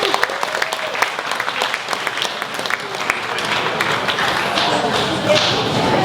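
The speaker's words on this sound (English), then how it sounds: "A round of applause," Crowd applause fills a high school class reunion gathering for a speaker, steady dense clapping from many hands across the room, sustained throughout.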